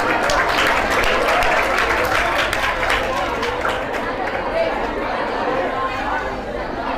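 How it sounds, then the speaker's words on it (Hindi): Loud crowd applause at a students' results victory ceremony, a dense continuous wash of clapping mixed with chatter that holds steady then eases slightly toward the end. "एक बार जोरदार तालियां बजाइए।"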